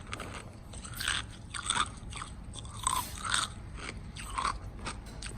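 Crunchy food scraps being chewed and bitten up close, with several bursts of crisp crunching in an uneven rhythm over a low background rumble.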